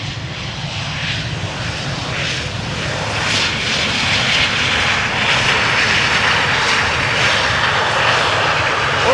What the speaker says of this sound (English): German Airways, Embraer 190, flying for KLM, arriving from Glasgow.